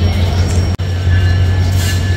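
The Sundarban Express runs crossing the Padma in Bangladesh, a loud steady rolling rumble with a constant low hum and a brief sharp dropout partway through.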